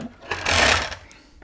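A screw is driven up through the underside of a VIC-20 computer case, giving a short whirring buzz from a powered screwdriver that swells and fades within about a second, close and alone.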